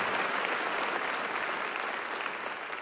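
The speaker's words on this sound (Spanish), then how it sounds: "Denle un aplauso fuerte si se lo va a dar, porque es para el Señor" A church congregation claps loudly and steadily in sustained applause throughout, dense and close with no talking over it.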